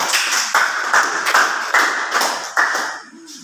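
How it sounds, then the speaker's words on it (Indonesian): A classroom group applauds a student team during a practice teaching lesson: loud, close, steady clapping from many hands, pulsing in waves for several seconds before tapering off. "kita beri aplaus dulu untuk kelompok 1"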